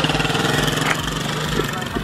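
A quad bike engine revs and pulls away on a dirt track, a steady mid-pitched engine drone with rhythmic pulsing, heard close under excited voices.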